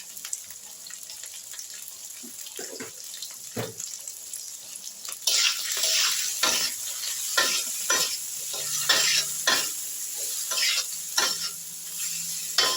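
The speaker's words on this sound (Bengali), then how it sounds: "নুন হলুদ দিয়ে আলুটা একটু ভাজা ভাজা হচ্ছে।" Boiled potatoes fry in a pan with salt and turmeric, first a soft quiet sizzle with a few taps, then a louder, steady hiss with repeated scraping knocks as they are stirred, close up.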